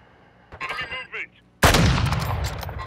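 A single loud gunshot through a wall in a Search and Destroy match of a shooter game, cracking in abruptly after a few faint game sounds and ringing out with a rumbling tail.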